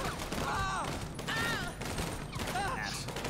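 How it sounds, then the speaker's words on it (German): Rapid bursts of police gunfire in GTA 5 during a terror-attack scenario with an Austrian Cobra special unit, dense and continuous under overlapping voices and whistling sounds. "Kollegen schießen weiter"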